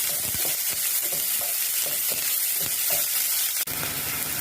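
Sliced onions frying in hot oil for Cypriot kolokasi (taro) with potatoes, a steady close sizzle with soft stirring scrapes recurring in a loose rhythm and a brief sharp knock near the end.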